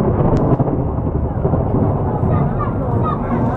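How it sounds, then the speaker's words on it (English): Thunder rolls in a loud, sustained rumble that fills the whole stretch, with rain noise underneath, during an outdoor music festival. "That's the only thing I don't like is that lightning, thunder and lightning"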